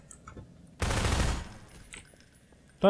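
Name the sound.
turret dying sound in a Portal 2 test chamber, from a video game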